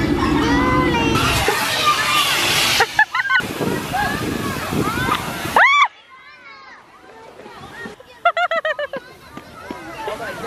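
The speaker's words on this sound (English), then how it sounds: "Z is trying to fill that water bucket up." Water gushes and splashes steadily into a bucket being filled, a continuous rushing wash with brief breaks, while people talk and exclaim nearby.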